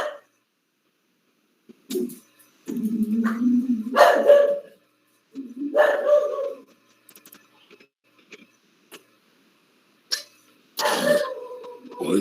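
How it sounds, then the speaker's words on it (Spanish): A dog barks several times at irregular intervals during a class, with loud, close, rough barks separated by short pauses and no talking over them. "Ladrando la fiera."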